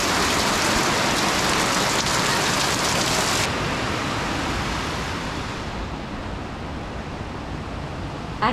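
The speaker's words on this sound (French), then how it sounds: "C'était une pluie torrentielle tropicale comme j'en ai rarement vu." A heavy tropical downpour on Koh Phi Phi pours down as a dense, steady roar of rain that fills the whole clip and eases slightly toward the end, with no voices.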